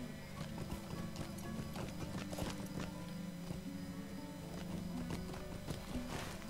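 Horse hooves clip-clopping at a steady trot in the video game Lord of the Rings Online, a quiet, even rhythm of hoofbeats with a faint neigh, no talking over it.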